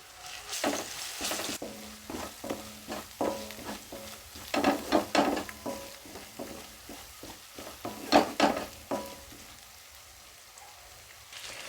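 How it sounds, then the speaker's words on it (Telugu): Chopped onion and green chili frying in hot oil, with a steady close sizzle broken by repeated stirring scrapes and bursts of crackle throughout. "ఆయిల్ హీట్ అయ్యాక కట్ చేసుకున్న ఆనియన్ గ్రీన్ చిల్లీ వేసుకోవాలి"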